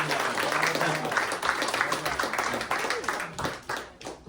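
An audience claps after a close-up card magic trick, a lively burst of many hands that stays strong, then thins and fades toward the end with a few scattered claps and faint voices mixed in.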